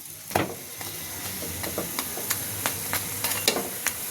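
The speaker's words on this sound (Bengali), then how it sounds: "হালকা তেলের উপরে ভাজাভাজি করছি" Crispy paya (trotters) fries in a little oil, giving a soft continuous sizzle broken by repeated light clicks and taps of a spatula stirring in the pan, close up with no talking.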